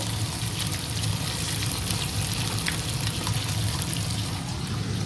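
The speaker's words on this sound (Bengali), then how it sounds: "ভাজা হচ্ছে" Fish pieces frying in oil in a wok give a steady, close sizzle with faint crackle, running evenly throughout with no talk.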